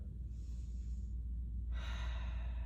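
Deep breath drawn in during a heart chakra yoga breathing practice, a soft airy inhalation heard alone over a low background hum, swelling in the final second.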